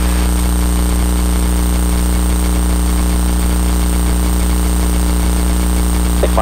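A small plane's engine idles slightly high in a steady, loud droning hum with a constant tone and no change in pitch, heard from inside the cockpit.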